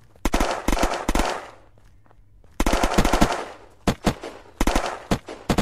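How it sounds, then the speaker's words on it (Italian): Rapid bursts of automatic gunfire in the video game Unturned, loud and close, coming in several clusters of quick shots with brief pauses between them, with no talking over it. "Devo sparare tantissimo."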